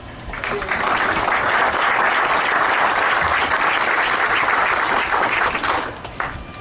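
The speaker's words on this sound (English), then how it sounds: "I think everybody here should give themselves a round of applause for being part of that story" Applause from the audience at the ERA plaque dedication ceremony swells quickly into steady, full clapping from the whole group, holds for several seconds, then tapers off.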